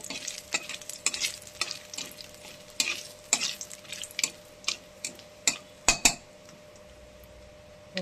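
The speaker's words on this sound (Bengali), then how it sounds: "কালো জিরে আর শুকনো লঙ্কা ফোড়ন দিয়ে দিলাম।" Black cumin seeds and dried red chilies sizzle in hot oil for a tempering, with near, sharp crackles and spits over a steady fry, broken by several loud clinks and scrapes of a stirring utensil against the pan.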